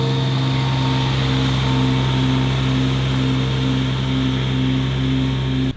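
A Honda lawn mower engine runs rough before warming up, giving a loud, steady drone with a faintly pulsing, uneven hum that cuts off abruptly at the end.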